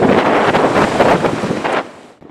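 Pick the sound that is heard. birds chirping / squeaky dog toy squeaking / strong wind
strong wind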